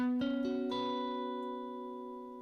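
A single suspended guitar chord, the one chord without the third, rings out after a few quick plucked notes, sustaining clearly and slowly fading with no other sounds.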